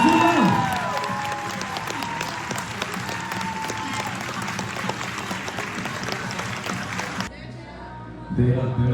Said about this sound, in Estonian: teeme võistlejate veel sulle aplausi